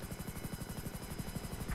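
A helicopter in the video game GTA 5 Online thrums with a rapid, steady rotor chop, fairly faint and continuous, with no voices over it.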